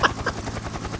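A helicopter sound effect in a League of Légends fun-facts piece, a steady rapid chopping pulse with whooshing blade beats, fairly loud and continuous for about a second with no voice.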